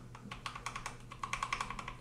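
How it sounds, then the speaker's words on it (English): Multimedia keys on a Keychron K2 V2 mechanical Bluetooth keyboard are pressed in a quick series of crisp clicks, faint and close, the taps speeding up toward the end. "let's see if my volume keys work"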